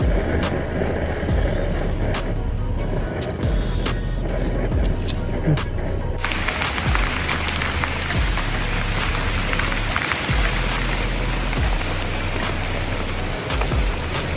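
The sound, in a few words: heavy rain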